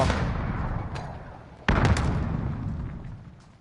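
Two heavy booming blasts from a bomb in the battle royale shooter Call of Duty Warzone, each decaying into a long rumbling tail, the second sharper and louder, close and dominant.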